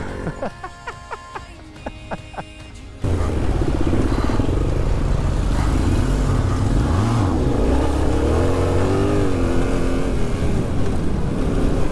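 GasGas 350 off-road motorcycle on knobby tyres riding through a mud puddle, a loud sustained engine drone with rising and falling revs, close by, after a few seconds of quieter rhythmic sounds.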